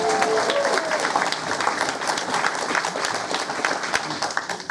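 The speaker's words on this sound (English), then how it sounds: "Another round of applause for Sam." Audience applauds a brass band soloist at a hospice concert, a steady wash of clapping that holds throughout, with a brief faint tone early on.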